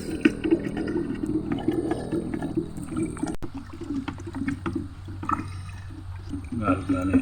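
Water sloshes and swirls as dissolved fertilizer is stirred in a container for watering chili plants, a steady liquid churning close by under someone talking.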